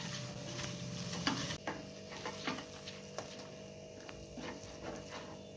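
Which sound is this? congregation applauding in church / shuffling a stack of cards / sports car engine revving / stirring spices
stirring spices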